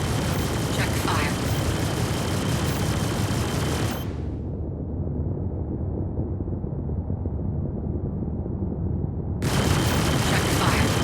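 Attrition ship weapons in Star Citizen fire in a loud, dense sustained burst from an F8C against a 400i, cutting off abruptly for several seconds before the roaring barrage resumes.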